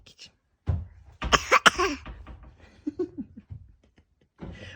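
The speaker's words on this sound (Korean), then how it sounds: "기침." A toddler with a cold coughs several times in short, close bursts, with quiet vocal sounds around them and a pause before a final faint cough.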